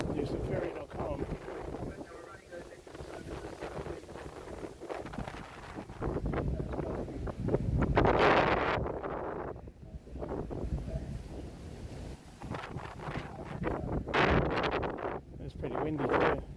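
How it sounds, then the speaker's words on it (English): Wind buffets the microphone in gusty rushes outdoors near a ferry crossing, rising and falling in loudness, with people talking intermittently underneath. "It's pretty windy too."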